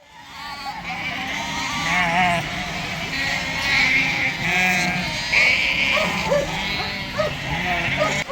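Many sheep bleat continuously on a New Zealand farm during shearing of ewes, a dense overlapping chorus of near and distant calls with a dog's bark and some voices underneath.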